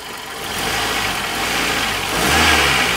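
A 1996 Toyota Corolla with a 1.6-liter 4AFE engine and automatic transmission revs steadily on a hot day, a close, continuous engine drone that swells in loudness near the end.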